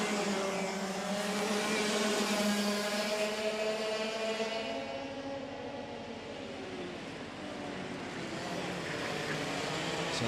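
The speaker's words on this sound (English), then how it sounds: "So the karts that are on your screen," Racing karts in an IAME Middle East Cup race run on a track, a continuous loud engine drone with shifting pitch as karts pass, steady throughout without talk.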